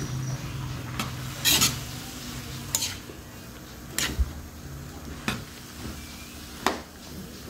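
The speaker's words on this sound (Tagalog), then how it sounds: "Haluin po natin para ano po, magsama-sama po sila lahat dyan sa kawali." A spoon stirs bottle gourd (upo) batso in a frying pan for an Ilocano dish from Ilocos Sur. Sharp scrapes and knocks against the pan come every second or so over a soft, steady sizzle, close up.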